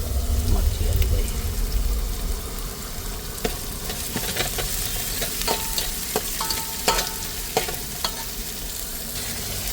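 Chillies frying in a pan with onion and garlic, a steady close sizzle with repeated clinks and scrapes of a spoon as the mixture is stirred.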